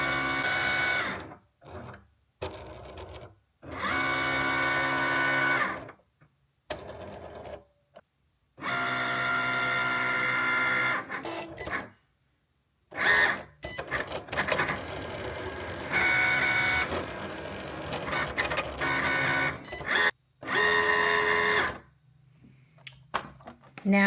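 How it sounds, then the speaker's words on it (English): Cricut craft machine doing a print then cut job in a craft room: long stretches of mechanical whirring and buzzing motor runs, broken by short pauses, stopping and starting repeatedly, with a voice speaking at times. "I am just going to print and cut this"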